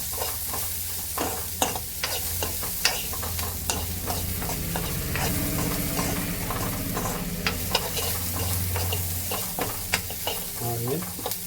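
Onions fry in a pan, with a steady sizzle broken by repeated sharp clatters and scrapes as they are stirred and tossed while making ridge gourd chutney.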